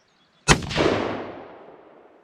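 A 6.5 Grendel rifle fires one sharp, loud shot at an outdoor water jug target, followed by a long rolling echo that fades out.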